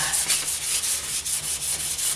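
A wooden Adirondack guideboat is hand-sanded with 220-grit sandpaper, giving a steady, rhythmic rubbing swish of back-and-forth strokes, close and continuous with no talk.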